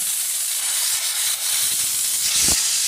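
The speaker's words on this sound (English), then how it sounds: "If we spray steam into the atmosphere, steam is going to lose temperature as it hits the atmosphere" A Chief Steamer 100 PSI releases steam from its wand into the open air in a steady, close, bright hiss with slight surges in strength.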